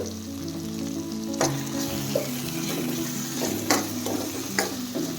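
Turmeric and ginger-garlic paste fry with softened tomato in a pan for a Karnataka greens palya, a steady close sizzle broken by several sharp scrapes and clatters of stirring.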